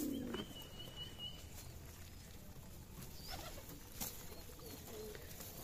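Racer and Giribaz pigeons in a loft give soft, faint cooing calls against quiet background rustling, with a brief flutter early on.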